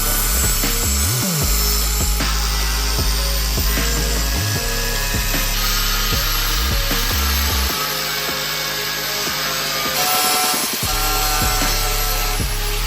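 A power saw cuts through the rocker panel of a Toyota Tundra, giving a loud continuous grinding rasp with repeated dips and restarts as the blade bites in and is pulled back.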